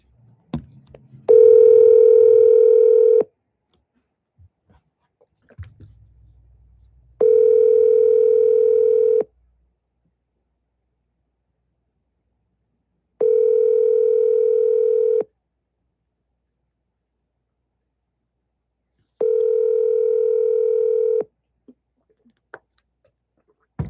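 An outgoing phone call's ringback tone sounds four times, each steady electronic tone lasting about two seconds with roughly four-second silent gaps, loud and clean with nothing else behind it.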